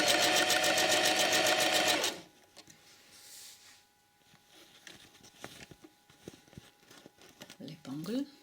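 A sewing machine stitches a waistband onto a skirt, a loud, steady mechanical whir for about two seconds that then stops, leaving quiet handling rustles and a few small clicks.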